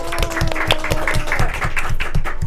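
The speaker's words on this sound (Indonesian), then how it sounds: "Tepuk tangan dulu dong." A studio audience claps in a steady burst for the head of the Tapak Suci martial arts club at SMA Muhammadiyah 1 Malang, the dense clapping running loud and continuous throughout.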